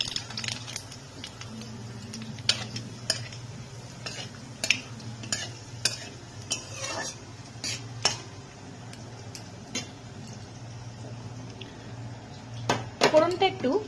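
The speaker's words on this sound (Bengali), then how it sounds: "এইবার এই মাছ ভাজার তেলটার মধ্যেই আমি একটা শুকনো লঙ্কা দিলাম আর 1 চামচ কালো জিরে ফোড়ন দিয়ে দিলাম।" Dry chilli and nigella seeds tempering in leftover fish-frying oil, with a soft steady sizzle under repeated sharp clinks of a spoon stirring against the pan.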